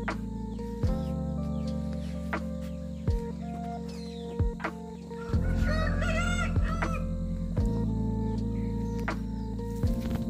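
A fighting rooster crows once, loud and close, in the middle of a steady low mechanical hum that carries sharp, regular ticking clicks.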